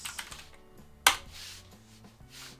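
Laptop keys clack as a command is typed, a quick run of light close taps with one sharper click partway through, quiet and without any voice.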